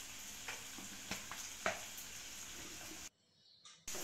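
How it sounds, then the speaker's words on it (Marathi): Chopped onions sauté in hot oil for a dhaba-style egg curry, a soft continuous sizzle with a few scraping stirs, cut by a brief near-silent gap near the end. "हेही छान परतून घेऊया तेलात।"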